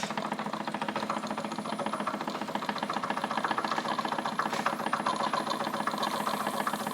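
A Wilesco D20 toy steam engine runs briskly, giving a fast, even chuffing and mechanical rattle that holds steady and close throughout, with no talking over it.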